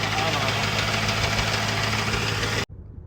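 A Ford car engine with an abnormal knock and falling oil pressure, running with a steady rough rattle up close, then abruptly cut off near the end, leaving near silence.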